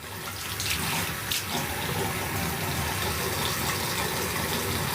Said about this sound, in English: If y'all hear water running, don't worry, that's my sink.